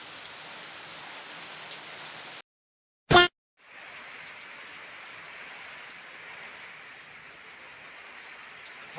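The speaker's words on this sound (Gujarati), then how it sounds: "જોરદાર બારીશ હવે." Heavy rain pours steadily over a village, a dense continuous hiss broken by a short silent gap and a brief loud burst before the downpour resumes and runs on evenly.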